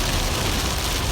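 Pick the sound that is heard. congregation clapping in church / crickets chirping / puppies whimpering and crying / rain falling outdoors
rain falling outdoors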